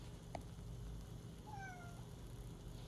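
A cat meows in a few short rising-falling calls partway through, fairly faint over a steady low background hum, with no talking.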